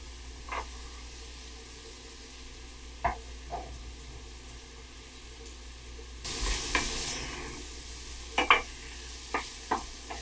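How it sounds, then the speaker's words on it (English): Chopped celery and carrots drop into a pan already frying leeks and fennel for shepherd's pie, setting off a sudden loud hiss and stir-scraping over a faint steady sizzle, with a few sharp clinks after. "I'm going to go ahead and add some celery here. And we can add the carrots as well at this time."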